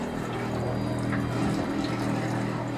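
Drained pump on a Snowie shaved ice stand sputtering out the last water, a steady rushing, gurgling hiss with a low hum beneath, continuous and close.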